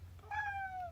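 A cat gives a single clear meow lasting most of a second, close and fairly loud over a low steady background hum.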